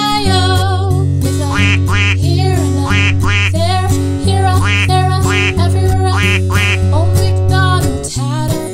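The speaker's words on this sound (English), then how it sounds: "And on that farm he had a duck." A cartoon duck quacks in a rapid repeated run over a bouncy children's farm-song backing track, the nasal calls sitting loud and close above steady music.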